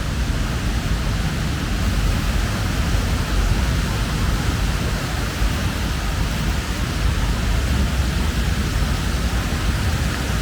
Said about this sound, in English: the water sound is about to drown me out here